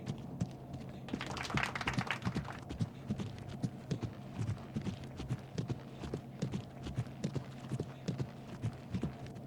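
Game horse hooves at a collected trot during a dressage test in the Riding Star video game, a steady, even clip-clop rhythm running throughout at moderate loudness with faint background game ambience.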